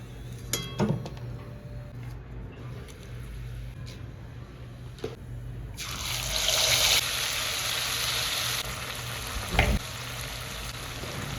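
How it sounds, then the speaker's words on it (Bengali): Quiet kitchen clatter, then a sudden loud sizzle of cumin seeds and bay leaves hitting hot oil left from frying potatoes, hissing steadily for several seconds, with a sharp clink near the end. "আলু ভাজা তেলেই জিরে, তেজপাতা ফোড়ন দিলাম"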